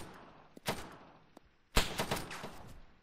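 Two bursts of gunfire ring out in an Arma 3 firefight, a short volley followed after a pause by a louder, longer rattle of shots.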